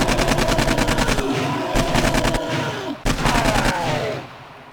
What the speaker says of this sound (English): I'm going to AK this bad guy.